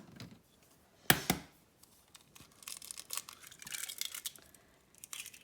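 Eggs cracked by hand for homemade egg noodles. One sharp crack comes first, then a quieter crunch and brittle shell sounds follow, faint and close, with no talking.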